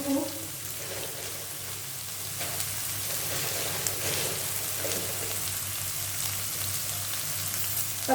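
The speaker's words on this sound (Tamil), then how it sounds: "எண்ணெயில் வதக்கும் போது கொஞ்சம் உப்பு போட்டுக்கலாம், கல் உப்பு." Ridge gourd sautéing in oil with rock salt in a pan, giving a steady soft sizzle like light rain that runs the whole way through, fairly quiet and without talk.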